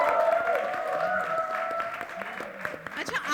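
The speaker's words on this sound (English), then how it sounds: "a huge round of applause for them" Audience applause at a film trailer launch in Juhu, a steady wash of clapping that runs under tonal music and a voice throughout the short stretch.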